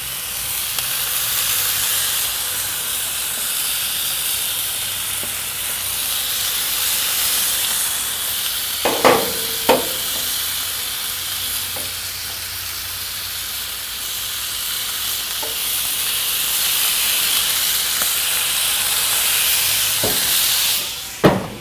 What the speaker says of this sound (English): I'm going to go ahead and put these pieces of bacon, ouch, on the griddle